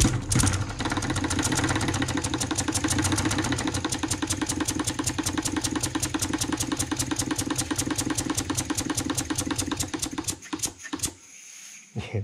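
A small hand-built model wobbler engine runs slowly at about 200 RPM, a close, even train of rapid mechanical ticks and puffs that keeps a steady rhythm before slowing and stopping near the end, with no voices.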